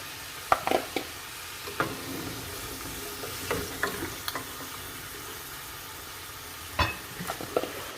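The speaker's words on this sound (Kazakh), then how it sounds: "Енді майға қуырылып жатыр." Meat for kazan kebab sizzles steadily in hot oil, with occasional sharp clinks and scrapes of stirring.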